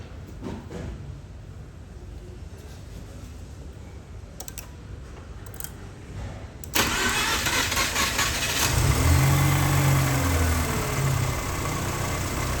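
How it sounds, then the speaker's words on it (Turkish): A Mazda RX-8, just fitted with a new ignition coil, fires up abruptly after a stretch of quiet background noise, then settles into a close, steady rotary idle. "Şimdi bir marşa bakalım, basalım bakalım ne diyor."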